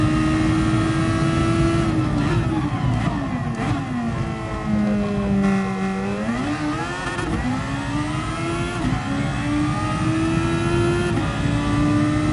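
A racing car engine in a PS4 racing game revs loud and close without a break, its pitch climbing and dropping sharply through repeated gear shifts over a lap, with no talking.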